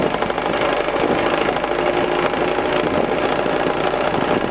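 An Italian Induma IS/43 turret mill's motor runs and speeds up, giving a steady, close, dense mechanical drone with no talking.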